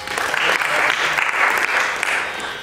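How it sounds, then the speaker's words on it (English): An audience at a Carnatic music and dance festival gives a brief round of applause for a young performer, a dense, even patter of clapping with a faint voice beneath it. "Let's give him a round of applause."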